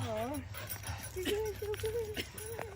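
A running dog whimpers in short rising whines outdoors during a trail run up Kendall Mountain near Silverton, Colorado, with a person talking over it.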